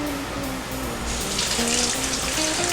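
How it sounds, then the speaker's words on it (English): Tap water runs loudly and continuously into a sink as an avocado is washed by hand, a steady close rush with slight splashing shifts and no talk. "We're going to get an avocado next. We're going to wash it."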